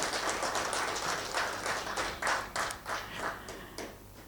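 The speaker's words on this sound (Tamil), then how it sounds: "பலத்த கைத்தட்டல் கொடுத்துருங்க" An audience at a gathering honoring two men breaks into applause, many hands clapping in a dense, fairly faint roar that swells and fades over several seconds in a large room, without speech.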